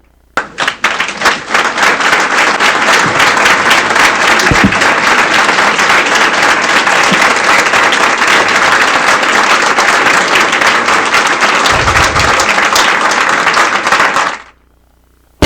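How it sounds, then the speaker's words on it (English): A conference audience gives sustained, dense applause for around fourteen seconds at an event on ending IPF, the clapping loud and steady before it stops abruptly. "if they could stand up and we can give them a round of applause"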